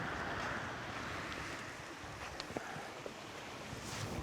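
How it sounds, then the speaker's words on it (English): Atlantic Ocean waves washing by the shore, a steady broadband wash with wind buffeting the microphone and no voices. "I'm by the ocean,"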